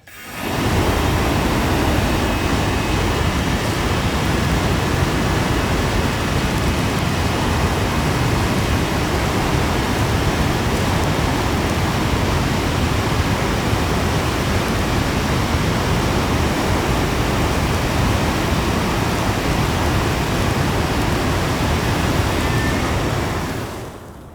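A flamethrower burns against an ammo can, producing a steady, loud, broadband roaring rush that holds unbroken for over twenty seconds before cutting off.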